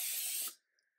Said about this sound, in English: And now we're going to lightly spray our 9x9 pan.